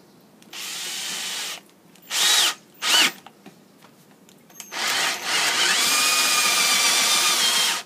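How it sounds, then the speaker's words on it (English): Harbor Freight power drill with a ship auger bit, heard in short whirring bursts that start and stop, then a longer steady drilling run that keeps grinding through the end with no talk. "I'm going to show you how this drill performs as it comes from Harbor Freight"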